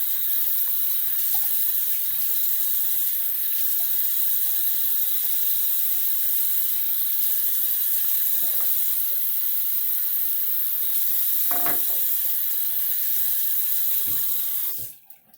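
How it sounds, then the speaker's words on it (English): A bathroom tap runs steadily to wet a face before a shave with a Japanese kamisori straight razor, a close, even hiss with occasional splashes from hands in the stream, cutting off abruptly at the end. "I'm gonna put some water on my face."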